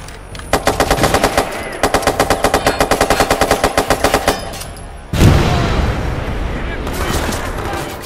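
Rapid automatic gunfire from the video game Watch Dogs 2 rattles out in two long, evenly spaced bursts, loud and close, followed by a heavy boom and a rumbling aftermath.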